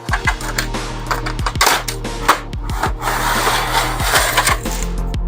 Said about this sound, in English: This tray is just going to disintegrate as I pull it out.